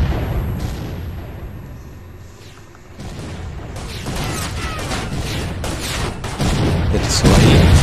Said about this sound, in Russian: Видите, взрывы какие-то.